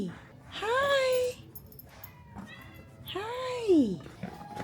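Pet cats meow twice, close and clear, with long drawn-out cries rising and falling, while someone talks softly to them between the calls.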